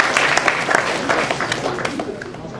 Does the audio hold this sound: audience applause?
yes